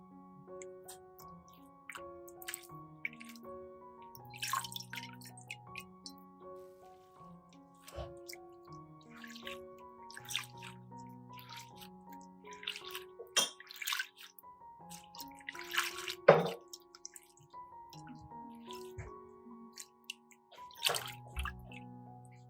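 Fresh herbs such as parsley and mint being rinsed in a bowl of water, with quiet drips, small splashes and light taps scattered irregularly over a soft, close background.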